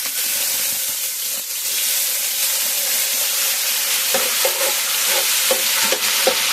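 Shrimp stir-frying in a hot pan for Chinese shrimp fried rice, a loud, continuous sizzle and hiss with occasional spatula scrapes and taps, no voice.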